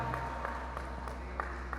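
An audience claps for a nautical studies cadet at a maritime academy graduation ceremony in Jakarta, a faint, distant applause over a steady hall hum.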